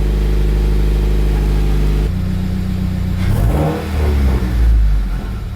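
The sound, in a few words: Subaru WRX engine revving with Perrin header installed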